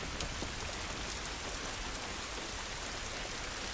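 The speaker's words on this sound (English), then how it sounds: "This rain ain't gonna do us any good" Steady, dense rain in The Last of Us Part 1 on PS5 falls continuously, a soft even hiss of drops on surfaces with no voices.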